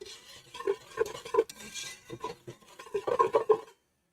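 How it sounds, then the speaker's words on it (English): Whisk beating ingredients in a bowl while baking for afternoon tea, with quick rhythmic scraping clicks in bursts and brief pauses, close and fairly clear, no talk. "Gonna whisk this. Whisk, whisk, whisk."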